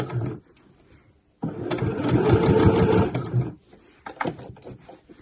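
Sewing machine stitching around the edge of an internal patch pocket on a weekender bag, a steady motor whirr of running stitches for about two seconds between quieter handling noises and pauses.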